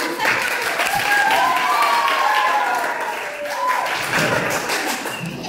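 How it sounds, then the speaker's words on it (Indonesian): A classroom of students claps together after a presentation, a fairly loud continuous patter of hands that swells again near the end, with voices chattering underneath. "oke, tepuk tangan"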